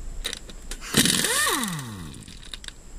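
Pneumatic air tool taking the front wheels off a Polaris Ranger XP 1000, a sharp rattling burst that revs up and then winds down with a falling whine, close and fairly loud.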